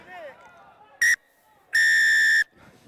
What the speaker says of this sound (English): Halftime whistle, which is now blown